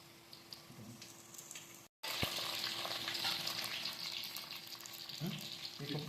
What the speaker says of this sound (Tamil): இப்போ புதினா கொத்தமல்லி புதினாவை அதோட சேர்த்துட்டு நல்லா வதக்கலாம்.